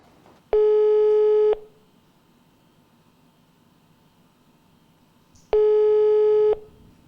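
A busy tone on a telephone line, two loud steady beeps about a second long each, separated by several seconds of quiet line hiss, while an office phone goes unanswered.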